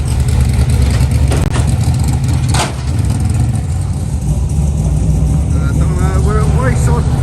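Race car engine running on a rolling road dyno at a performance workshop in Coventry, a loud sustained drone with a brief dip midway and rising revs near the end.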